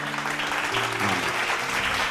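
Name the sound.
audience clapping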